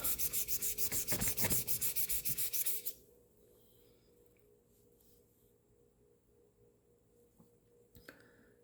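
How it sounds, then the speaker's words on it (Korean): Fine sandpaper is rubbed rapidly back and forth over the horn of a traditional Korean bow, a close, rhythmic scratching of quick strokes lasting about three seconds before it stops, leaving quiet handling noises. "이렇게 해서 마무리는 조금 더 고운 사포로 문질러 주면 됩니다"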